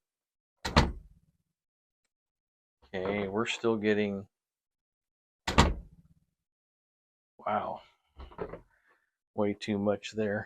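Two sharp door thuds from a door into a room sound through a turntable isolation test, each followed by someone talking briefly.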